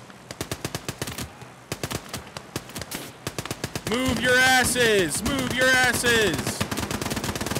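In the WWII game Gates of Hell: Ostfront, rapid machine-gun bursts and single gunshots rattle close by. Shouted voices break in, and a heavier sustained stretch of firing and battle noise follows.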